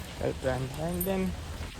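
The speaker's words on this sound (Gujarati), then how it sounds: "અત્યારે ધીમે ધીમે ધીમે ધીમે વરસાદ ચાલુ થઈ ગયો" Light rain begins falling outdoors in a Botad village, a soft, steady patter that sits beneath a person talking close by.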